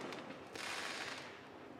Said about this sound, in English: There are some fireworks going off, but last year there were a lot more.